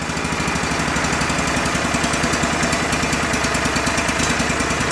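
The small gasoline engine of an old Go-For digger runs close and loud with a rapid, steady, rough chugging beat that does not let up.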